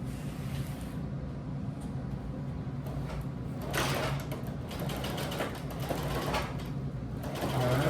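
A sewing machine runs on fabric in a steady low mechanical whir, with a few louder rattling surges along the way, fairly close and without talk.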